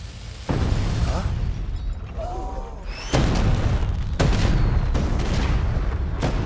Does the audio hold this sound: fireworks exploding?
yes